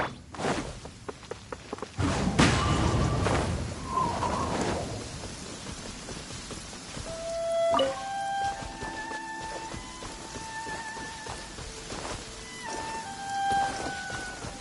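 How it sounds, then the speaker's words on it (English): Rain falls in a downpour in the video game Genshin Impact, a soft, steady hiss with a louder surge early on. Sustained musical tones from the game then drift in over the rain. "Taking a stroll in the middle of a downpour certainly rouses the spirit."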